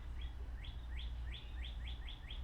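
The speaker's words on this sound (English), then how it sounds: "Can you hear the birds? That's a robin that's outside." A robin sings outdoors, giving a run of about eight quick, bright chirping notes in a regular rhythm, heard at a moderate distance over steady low background noise.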